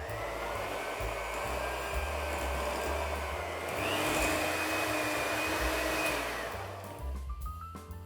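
An electric mixer whirs steadily as it beats ground almonds into frangipane, a close constant motor drone that rises in pitch midway and then winds down at the end.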